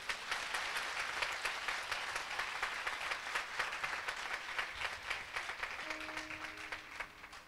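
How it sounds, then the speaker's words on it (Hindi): A church congregation claps loudly and steadily at a church grand opening, dense continuous applause with a brief sustained keyboard-like tone near the end. "जोर से ताली बजाएं।"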